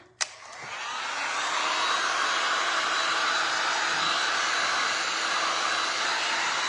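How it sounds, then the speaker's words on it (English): A heat gun blowing over resin on a glass art piece starts with a click and then gives a steady, close, loud airy roar that holds for several seconds, with no talking. "I'm gonna hit this with my heat gun."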